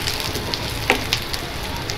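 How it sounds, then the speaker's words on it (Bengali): Onions stir-frying in a pan over high heat for beef chili give a steady, close sizzle, broken by a few sharp clicks and scrapes of stirring. "জোরে জাল দিয়ে নাড়াচাড়া করে ভেজে নিতে হবে।"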